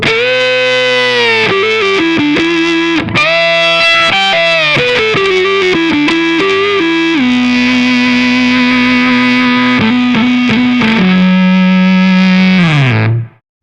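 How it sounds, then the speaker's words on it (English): Electric guitar with a thick fuzz tone plays a gritty sustained riff through a Laney amp, loud and saturated, ending with a held note. "that is a good fuzz tone"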